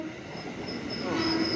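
A KRL TM 6000 commuter electric train rolls past a JR205 train, giving a continuous near rumble with a thin rising wheel squeal.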